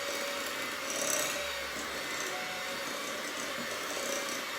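An electric mixer whips chocolate crinkle cookie dough in a bowl, a steady loud whirring drone with a slight swell partway through, running alone without any voices.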